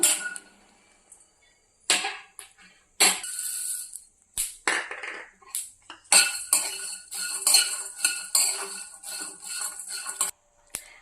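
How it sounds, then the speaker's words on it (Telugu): Coriander seeds dry roasting in a pan over a low flame, heard as scattered clinks and scraping stirs against the metal pan, close up and irregular with short pauses, no talking. "ఇవి లో ఫ్లేమ్ మీద ఫ్రై చేస్తున్నానండి"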